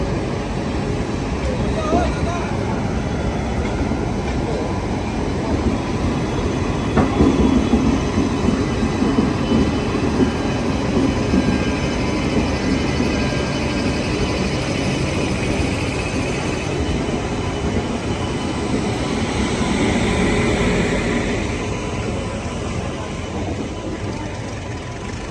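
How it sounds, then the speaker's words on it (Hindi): Kolkata–Jammu Tawi Express running on rails, a steady loud rumble with rail clatter lasting throughout, recorded from aboard or beside the moving train. "कोलकाता जम्मू तवी एक्सप्रेस।"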